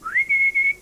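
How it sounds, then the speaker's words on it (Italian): A person whistles a short clear tone that rises and then holds steady, broken into two or three sustained pulses, close and alone against quiet background. "questo è un fischio che incanta"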